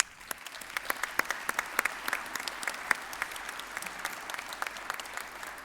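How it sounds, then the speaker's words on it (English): An audience at a college presidential inauguration ceremony applauds steadily, many hands clapping at once in a dense, continuous patter with sharper individual claps popping out, at moderate volume with no talking. "Please join me in giving them a special round of applause."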